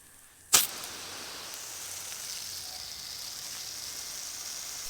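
A Hoselink compact hose nozzle bursts on with a sudden spray, then settles into a steady, fine hissing stream of water that carries on evenly with no talk.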